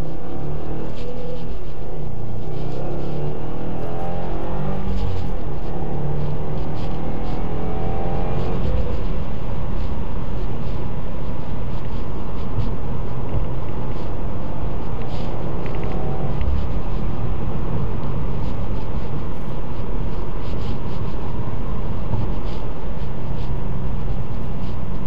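A 2016 Subaru WRX Premium drives along winding back roads, its engine and road rumble steady and loud from inside the cabin, rising and falling slightly through the curves with no talk.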